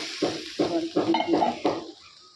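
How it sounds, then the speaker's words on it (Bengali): Chutney in oil fries lightly in a pan with a soft sizzle, broken by five even scraping stirs of a spatula that pause before a quiet tail. "হালকা হালকা করে ভাজছি"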